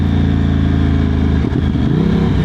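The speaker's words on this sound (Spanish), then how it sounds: "Reduzco sin embrague, súper suave la entrada de la marcha anterior." A Moto Morini X-CAPE 1200 motorcycle engine downshifts without the clutch, holding a loud, close, steady low drone with a brief dip in revs midway before settling back.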